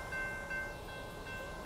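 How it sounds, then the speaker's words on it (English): A train passes near a beach by a pier, heard as a faint, steady rumble with thin tonal whine from a distance, with no talk over it. "There's train."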